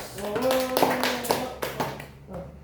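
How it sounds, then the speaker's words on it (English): Classroom applause from tenth-grade students during a microteaching lesson, a brief burst of clapping with a voice speaking over it, close and moderately loud, fading out after about two seconds. "Give applause to us."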